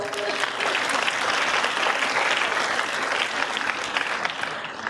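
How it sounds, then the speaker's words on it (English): Dense applause from an audience at an orientation programme, a steady, loud wash of many hands clapping that carries on for the full five seconds with little change in level. "Give a round of applause to all of them."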